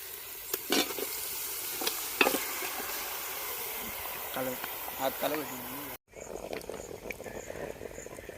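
Chicken leg pieces sizzle and fry in a pot at a village party, a steady crackling bed with scattered stirring clatters and a voice talking over it, then an abrupt cut to a quieter, closer sizzle.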